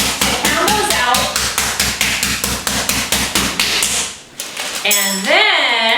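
Chicken pieces are pounded flat with a steady run of loud, rapid thumping blows, about three per second. A brief pause follows, then a voice speaks over a quieter background.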